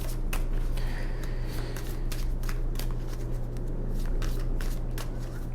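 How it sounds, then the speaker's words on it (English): Tarot cards are handled and shuffled close up, with crisp repeated riffling and flicking snaps over a steady low hum and no talking. "Okay, I pulled way too many cards."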